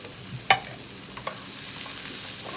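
Vegetables stir-frying in a hot wok, a soft steady sizzle with a sharp metallic clank of the tossing utensil, followed by a few lighter scraping clicks.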